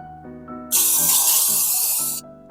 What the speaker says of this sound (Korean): 이런 스티커 제거 스프레이 있잖아요. 여기 지금 스티커 붙어져 있는데 여기다가 이렇게